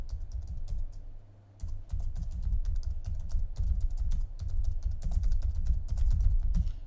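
Rapid typing on a computer keyboard, dense clicking keystrokes close by with a short pause near the start, no voices.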